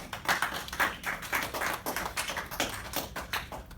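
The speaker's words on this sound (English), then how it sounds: "Deserves a round of applause." A small audience claps a round of applause after a game presentation, with a few steady hands clapping close by for several seconds.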